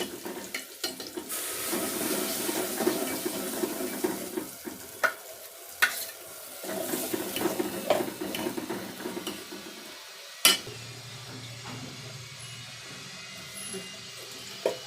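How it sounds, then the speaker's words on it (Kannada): A pan of village-style sambar being stirred as water from a ground curry-leaf paste is poured in, giving a steady close scraping and a soft sizzle that continue without speech. "ಅದು ರುಬ್ಬಿರೋದಿತ್ತಲ್ಲ ನೀರು ಅದು ಸೇರಿಸ್ಕೊತಾ ಇದ್ದೀನಿ"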